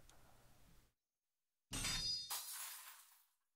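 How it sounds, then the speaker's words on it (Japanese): Glass shattering loudly in a video game: a sudden violent crash of breaking glass after a pause, bursting into a second wave of bright shards that tinkle and scatter before fading out. "ガラスが盛大に割れる音だ"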